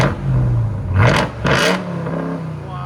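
A 2021 RAM TRX pickup fitted with a Flowmaster Outlaw exhaust is revved twice, two loud rising roars over a low idling rumble, heard up close.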